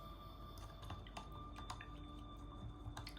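A paintbrush loaded with acrylic paint being washed in water during a paint-by-number session: soft, quiet squishing and dripping with small intermittent splashes over a low constant hum.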